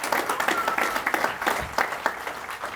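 Audience applause for the vocalists at a Memorial Day ceremony at Fort Custer, a steady, dense crowd clapping that carries on with no break and fills the room at a moderate level.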